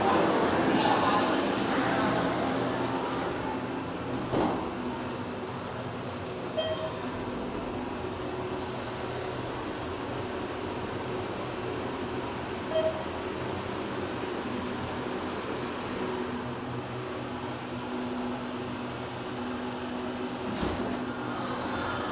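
Steady low mechanical hum and rumble of a 2023 ThyssenKrupp hydraulic elevator car in motion at a mall, with faint clunks and brief rattles along the way.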